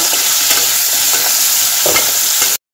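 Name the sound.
potatoes frying in oil with salt and turmeric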